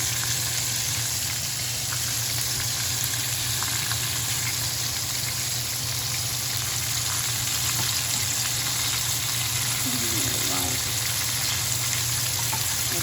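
Chicken fries in hot oil with a constant hissing crackle and a low steady hum underneath, heard close and unbroken, with no talk and a faint brief clink near the end.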